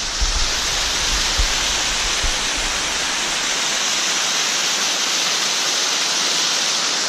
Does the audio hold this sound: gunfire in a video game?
no